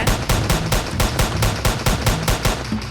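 Rapid gunfire in the video game Escape Evil Step Dad, a fast regular burst of about a dozen sharp shots, loud and close, with no talk over it.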